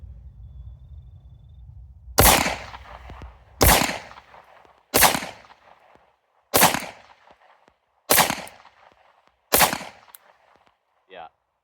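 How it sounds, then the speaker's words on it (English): Six loud single shots from a Sig P365 pistol fitted with a compensator, fired at a range in an evenly spaced rhythm about every one and a half seconds, each with a sharp crack and short decaying tail. "So I'll go ahead and shoot 5 shots with this one first."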